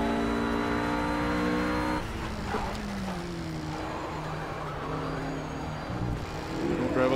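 A race car engine at Laguna Seca in Project Cars drones with a steady harmonic whine that shifts pitch with gear changes and throttle, while someone talks over it throughout.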